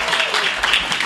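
Audience applause welcoming a singer at a book reading event, a brief steady patter of many hands clapping close by.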